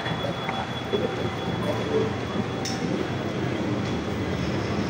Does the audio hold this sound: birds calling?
no